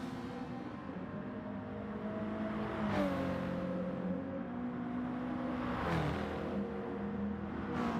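Racing cars rev and shift on track, a Subaru with a boxer engine and a Toyota Supra with a 2JZ, producing steady engine drone with rising pitch that repeats in surges about every three seconds, fairly distant and subdued.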